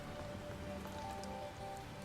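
Rain in Pokémon Scarlet and Violet on the Switch 2: an even, soft hiss of rainfall plays alone at low volume, with faint steady tones from the game's background underneath.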